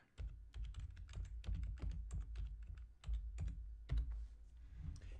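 Rapid, close typing on a computer keyboard, quiet irregular key clicks in short bursts with brief pauses.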